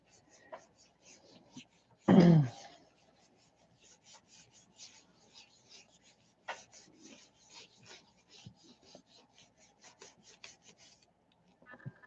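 Pan pastels are rubbed across a Gelli plate in soft, intermittent scrapes and scratchy strokes, quiet and close, with one louder burst of handling noise early on and brief speech near the start.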